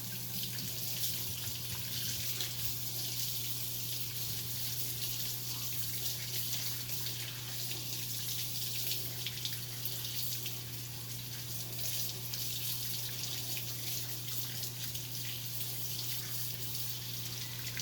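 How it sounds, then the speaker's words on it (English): Tap water runs steadily from a faucet during handwashing at a sink, a continuous close hiss with a low steady hum underneath, no talk. "I will use that paper towel to turn off the faucet"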